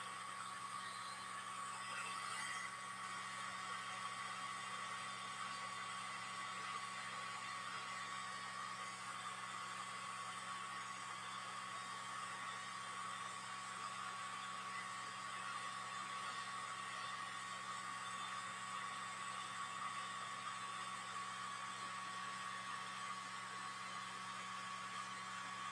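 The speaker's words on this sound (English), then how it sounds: "if you're blocking the fan on the blower, you're not getting enough air." A blower fan pushes air over wet acrylic paint in a fluid-art pour, making a steady, even whir with a faint hum that runs unbroken throughout at constant loudness.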